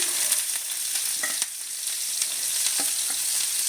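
Chopped garlic sizzles and crackles in hot ghee in a pan while chicken fries, a steady close bright hiss with occasional stirring scrapes and pops.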